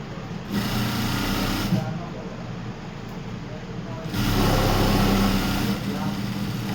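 Sewing machine stitching fabric, running steadily in bursts with louder stretches, while people talk nearby.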